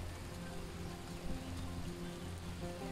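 Steady rain falls on a village vegetable garden planted with corn, peas and cucumbers, a continuous close, even hiss of drops with no voices.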